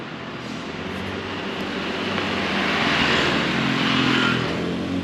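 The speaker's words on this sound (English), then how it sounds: "let's grab my motorbike and we'll go hit a couple spots" Motorbike ride through traffic in Thailand, a continuous broad engine and road roar that swells slightly toward the end, steady and close with no talking.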